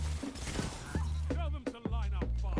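Gunfire from the Destiny 2 video game crackles in a few quick, close bursts over a steady hum of game sound, with a voice talking through it.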